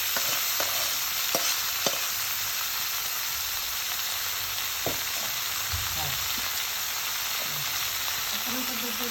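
Data saak greens sizzle loudly with browned garlic in a hot pan, a dense continuous frying hiss with a few soft knocks and scrapes of stirring, close by.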